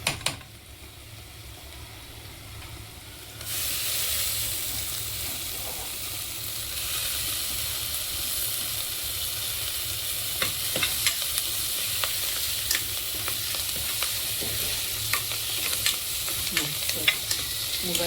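Chopped tomato and coriander drop into a masala for mung dal amti, and a loud, steady sizzle starts a few seconds in. Spoon scrapes and stirring clatter run through it, heard close up.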